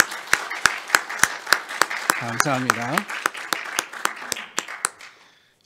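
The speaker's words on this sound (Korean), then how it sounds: "우리 다시 한번 응원의 의미로서 크게 한번 박수하겠습니다" A church congregation applauds during a Sunday worship service, with loud, evenly spaced claps in a steady rhythm and a brief sung or spoken voice rising in the middle before the clapping fades out.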